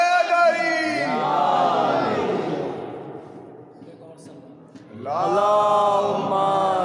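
At a memorial majlis, a large gathering answers the Naara-e-Haidri chant call with a loud, drawn-out collective shout, which fades into murmuring before a second full-throated roar of voices rises again.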